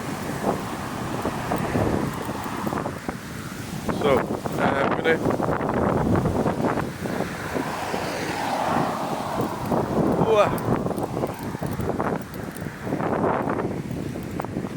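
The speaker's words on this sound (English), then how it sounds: "It's windy." Gusty wind roars and buffets the microphone on a street in Stirling, Scotland, rising and falling steadily throughout while someone talks briefly over it.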